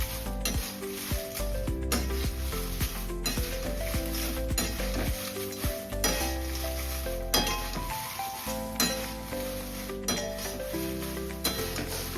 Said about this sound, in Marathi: अशा मिरच्या घ्यायच्या आहेत तळून